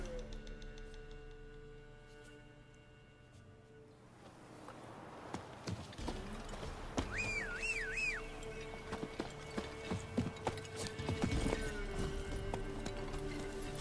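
Horse hooves in The Witcher 3 clip-clopping at a steady gallop, rising in loudness as the ride starts, over game music with a brief whinny-like tone.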